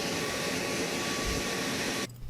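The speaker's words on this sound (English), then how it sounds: "With the vacuum cleaner, I try to remove the dust where I don't have access." Vacuum cleaner sucking dust out of a PlayStation 2 Slim console during cleaning, a steady loud broadband whoosh that runs continuously and then cuts off abruptly near the end.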